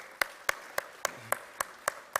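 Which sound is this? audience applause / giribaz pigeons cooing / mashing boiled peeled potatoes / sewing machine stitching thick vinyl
audience applause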